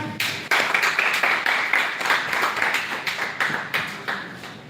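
An audience at a seminar session applauds, with dense, continuous hand clapping that runs steadily through the whole stretch, fairly close and moderately loud, with no speech over it.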